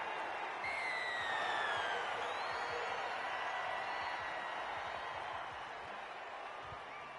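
The crowd roars and applauds after a try in the Rugby League 26 video game. The broad, sustained noise fades slowly over several seconds, with a hint of whistles early on.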